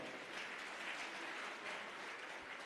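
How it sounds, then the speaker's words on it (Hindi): A gathered audience at a religious discourse session claps in a brief, steady burst of applause that sounds faint and distant. "एक बार जोरदार तालियां बजाएं।"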